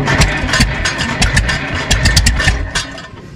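An International TD-9 diesel bulldozer engine cranks and sputters on gasoline in 31-degree cold, a rapid uneven chugging with clattery bursts, loud and close throughout.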